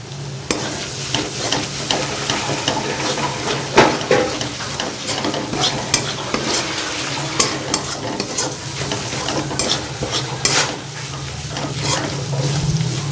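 Onions with turmeric and coriander powder fry in a pan, a loud close sizzle under repeated spoon scrapes and knocks against the pan at an uneven rhythm, with no voices.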